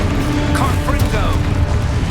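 A fiery Confringo spell in Hogwarts Legacy crackles and booms amid busy game noise, with a whooshing sweep across the middle of the burst, loud and close.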